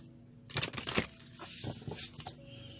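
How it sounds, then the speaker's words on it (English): A deck of cards gets shuffled by hand for a card reading, giving a few quick riffling, papery bursts with softer rustling between them. "Another shuffle they request."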